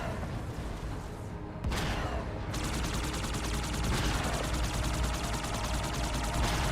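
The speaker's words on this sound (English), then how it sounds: "More cannons shooting at me." Cannons and gunfire in the Halo 2 Anniversary campaign: dense, continuous bursts of explosive shots and booms, loud and steady, with a sharp surge partway through and no talking.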